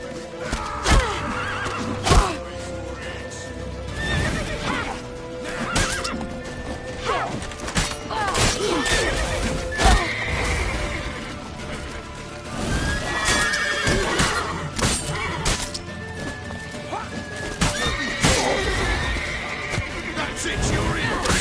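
A horse in The Witcher 3 neighs and whinnies repeatedly while hooves clip-clop steadily underneath, with crashes and thuds mixed in and voices speaking over the action throughout.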